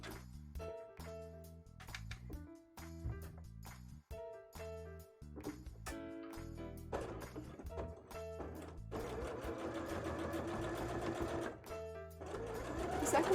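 A sewing machine stitches bra fabric in repeated bursts, with short runs broken by pauses before a longer, louder continuous run toward the end, close up with no talk.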